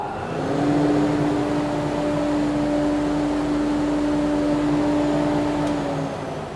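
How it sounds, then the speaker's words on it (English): A workshop dust extractor with a bag filter and flow indicator runs steadily close by, a loud, even broadband whoosh with a sustained motor hum that starts, holds without change and eases off near the end. "I'll turn this extractor bag on and we'll see what the flow indicator is giving us."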